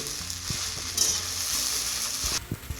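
Sabudana khichdi cooked in ghee, with peanut powder added, sizzles steadily in a pan while a spoon stirs it with soft, irregular knocks and scrapes.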